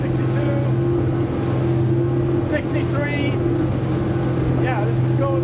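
A Phenom 37 motor boat with twin 600HP V12 Mercury outboards cruises with a steady, loud engine drone and rushing water and wind, while people talk over it in short bursts.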